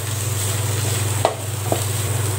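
Grated coconut and curry leaves are sautéed in a pan for parotta salna, a steady close sizzle under a constant hum, with a couple of soft stirring scrapes.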